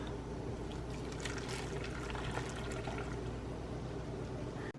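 Quiet, continuous stream of boiled pickling liquid pouring and trickling into a jar, steady throughout and close by.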